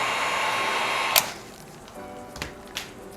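A heat gun warms vinyl wrap on a car door handle: a steady blowing hiss that stops after about a second, followed by a few faint clicks and handling sounds.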